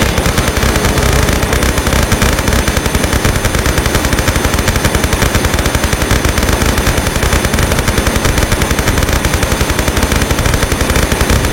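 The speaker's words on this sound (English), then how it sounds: "The MP5 was introduced in Tomb Raider 3 and is incredibly similar to the M16 from Tomb Raider 2, except it deals more damage per shot and fires even faster" An MP5 submachine gun in the video game Tomb Raider 3 fires in one long, rapid, unbroken burst, loud and steady for the whole stretch with no talk.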